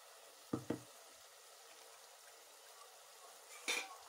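Coconut paste being added to sizzling masala in a pan for a turai salan: two short, faint sizzling bursts near the start and another near the end, with quiet pan noise between them.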